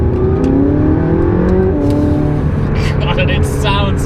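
A McLaren 675LT sports car engine growls and revs loudly at close range, with a rising and falling whine and someone talking over it.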